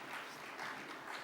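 A crowd applauds at the 2024 SADC Sustainable Energy Week conference after the Austrian ambassador to South Africa is introduced, a steady dense wash of clapping that holds at an even level throughout and sounds moderately distant.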